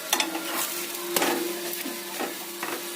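A chapati roasts in an oiled pan with a soft, steady sizzle, broken by a few light scrapes and turns.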